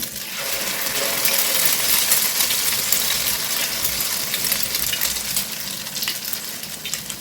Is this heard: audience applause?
no